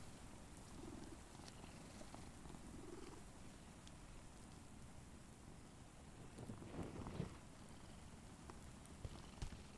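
A cat in the video game Mortal Shell purrs with a soft, steady, low rumble, faint and continuous under light ambient wind, with no talk.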